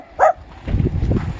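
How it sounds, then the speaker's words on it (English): A dog in an RV park gives one short, sharp bark at a neighbor, followed by faint low murmuring, with breezy outdoor ambience. "barking at our neighbor"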